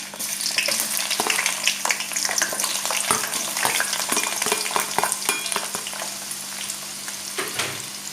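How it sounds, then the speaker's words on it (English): Coarsely chopped onion frying in hot oil for chicken do pyaza, a loud, steady sizzle with crackling pops running throughout. "So there goes, first and foremost in the oil, the coarse onion."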